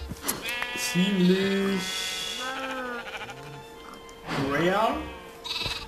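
Sheep in the video game Minecraft, some of them dyed black, bleat in several wavering calls over a few seconds, loud and close, while someone talks between them.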